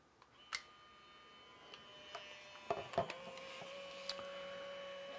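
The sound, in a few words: Fujifilm Instax Mini 9 camera ejecting a printed photo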